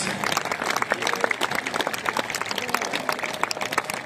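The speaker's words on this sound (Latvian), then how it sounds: "kur jau šobrīd kāp skaļiem aplausiem sagaidīt uz skatuves" A concert audience applauds loudly as a singer steps onto the stage at a schlager marathon, with individual claps audible within the sustained, uneven applause.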